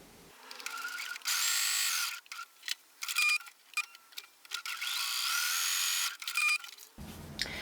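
A home sewing machine stitches a quilt block a quarter inch from a marked line, running in several close bursts of steady mechanical whirring separated by short pauses, with no talk.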